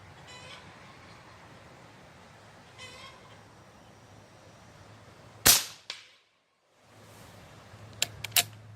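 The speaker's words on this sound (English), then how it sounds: "So I get about 40 to 44 good shots. out of 2 CO2 cartridges." A QB78 deluxe CO2 air rifle fires one sharp, loud close shot followed by a brief quiet gap, then a couple of smaller snapping clicks, over low steady background hum.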